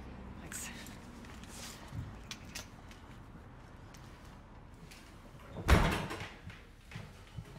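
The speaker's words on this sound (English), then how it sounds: "could you hold the door for me?" A door that has been held open swings shut with one sharp thud near the end, over steady indoor background noise and murmured voices.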